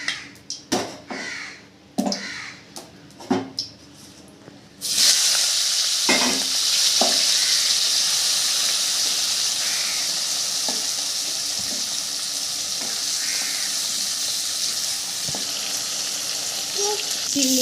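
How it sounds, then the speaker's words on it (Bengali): Prawns frying in hot oil in a wok (kadai) for a Bengali prawn malai curry. After a few seconds of crow caws and kitchen clatter, a loud, steady sizzle takes over and continues, with crows still calling now and then in the background. "চিংড়ি মাছগুলো ভেজে নেব"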